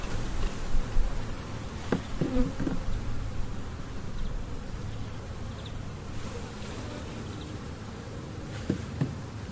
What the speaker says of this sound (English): bunch of bees on here.